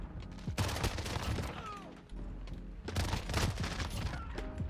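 Akimbo burst pistols fire in a video game, with rapid clustered volleys of loud, sharp shots in two main bursts separated by a brief lull, mixed with game effects.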